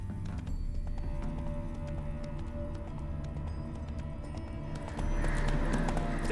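Roach, the horse in The Witcher 3, gallops with a steady, rapid clip-clop of hooves over low ambient music, and the hoofbeats swell louder and brighter near the end.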